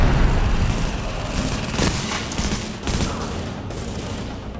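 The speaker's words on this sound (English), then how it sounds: "My turret is really helpful." A deployable turret in The Division, fighting at the Hudson Refugee Camp, rattles off dense, continuous gunfire mixed with booming impacts, loud and busy throughout with occasional sharper cracks standing out.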